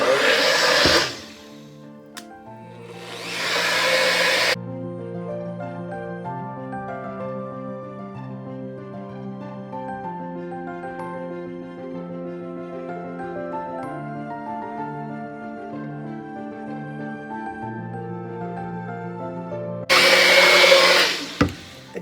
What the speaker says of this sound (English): So I'm going to go ahead and pulse this through with my new humongous soap mixer